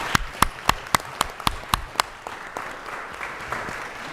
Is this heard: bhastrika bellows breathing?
no